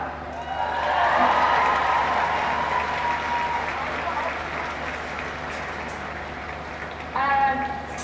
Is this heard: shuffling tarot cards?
no